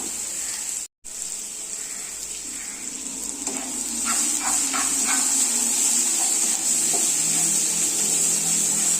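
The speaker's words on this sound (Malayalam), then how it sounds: "ഒരു മീഡിയം സൈസ് സവാള ഇതുപോലെ ചെറുതായിട്ട് കട്ട് ചെയ്തുകൊണ്ട് ഇത് നമുക്കൊന്ന് വഴറ്റിയെടുക്കാം" A medium onion, finely chopped, sautéing with a pinch of salt in a pan, giving a steady close sizzle with a constant high hiss and light stirring clicks.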